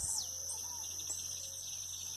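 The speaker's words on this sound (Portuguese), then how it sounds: "São bastantes pássaros, né? Passarinhos." Several small birds chirp and call at a countryside farm at dawn, high tweets layered over a steady insect drone, mostly distant with one brief nearer call, no voices.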